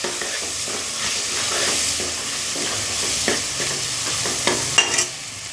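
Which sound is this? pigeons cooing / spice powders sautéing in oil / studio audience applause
spice powders sautéing in oil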